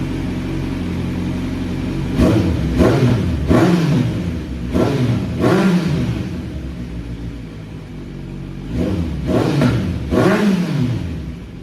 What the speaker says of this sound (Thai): เสียงเครื่องยนต์เดินนิ่งนะครับ บิร์นให้ฟังนะ